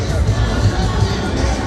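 Dense crowd hubbub at a street carnival in Jamaica, a steady close wash of many overlapping voices and bustle with no single sound standing out.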